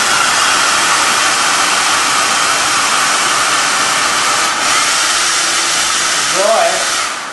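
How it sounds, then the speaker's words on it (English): A hair blower runs continuously to dry a freshly polished, alcohol-cleaned steel specimen for metallography. Its loud, steady whooshing airflow fills the entire stretch close to the mic. "I use this hair blower to"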